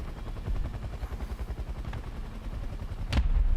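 Rapid volleys of aircraft rocket fire in War Thunder, a dense stream of low booming pops running steadily throughout, ending in a louder sharp blast near the close.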